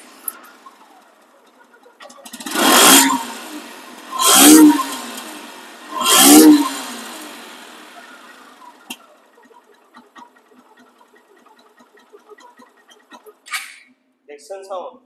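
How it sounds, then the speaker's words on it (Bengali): A Suzuki Gixer SF FI ABS motorcycle engine revs hard three times in quick succession, each burst loud and close, then drops to a quieter idle with faint background noise. "দেখছেন সাউন্ড, বাইকের সাউন্ড দেখছেন"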